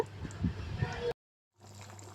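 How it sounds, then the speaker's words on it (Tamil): Water poured into a pan of drumstick kootu with ground roasted coconut paste, a soft sloshing, gurgling stream that breaks off abruptly, followed by quieter low rumbling. "அது கூட கொஞ்சம் தண்ணியை ஆட் பண்ணிக்கோங்க"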